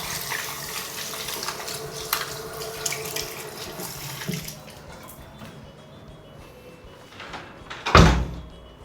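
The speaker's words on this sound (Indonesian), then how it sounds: "Oke, kita cuci tangan dulu" A hotel bathroom tap running while hands are washed, a steady splashing stream for several seconds, then quieter with a loud thud or clunk near the end.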